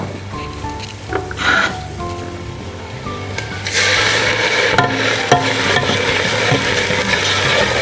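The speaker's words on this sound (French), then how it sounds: "on prend la viande et on fait revenir les morceaux de viande" Beef pieces browning in olive oil in a pan for a Flemish carbonade, first quiet stirring and clinks, then a loud, steady sizzle of frying that carries on to the end.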